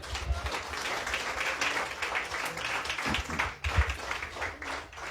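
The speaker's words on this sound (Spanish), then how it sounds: "Denles ofrenda de palmas al Señor" A church congregation at a Sunday service applauds, steady mid-distance clapping from many hands that runs without pause and swells briefly near the end, with no speech over it.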